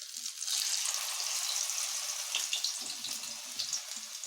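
Mustard flower pakora frying in oil in a kadai: a steady, bright sizzle and bubbling hiss fills the whole stretch, moderately close, with small pops and crackles scattered through and no talking.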